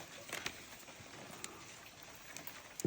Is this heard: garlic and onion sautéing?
no